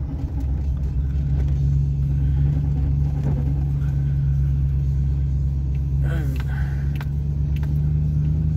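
A truck fitted with a Cherry Bomb 8-inch glass pack muffler drones with a deep, steady exhaust rumble while driving an old clay back road, the low engine note continuous throughout.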